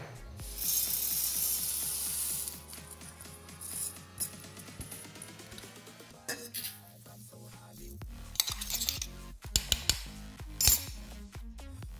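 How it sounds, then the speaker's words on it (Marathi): Mixer grinder grinding moong dal, a whirring motor tone that shifts in speed under a rattling clatter, then sharp knocks and clinks of the jar as it stops, with no talk. "आता ही डाळ आपल्याला मिक्सरमधून बारीक करून घ्यायची आहे"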